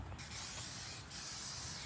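Spray paint can blasting in short, steady bursts to clear a clogged nozzle tip while restoring an intake manifold, a loud continuous hiss with a brief gap near the start and another around one second.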